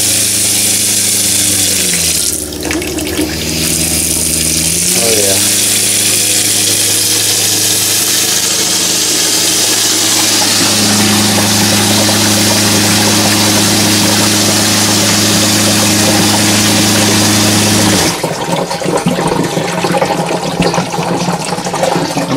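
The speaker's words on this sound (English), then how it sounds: "now we're ready to run the pump." A Shurflo water pump runs inside a DIY travel trailer with a loud, steady, droning hum and a rush of water. The tone shifts partway through, and a brief splashy burst comes near the end.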